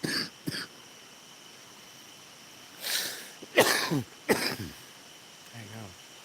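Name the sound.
cough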